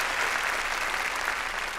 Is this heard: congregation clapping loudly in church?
yes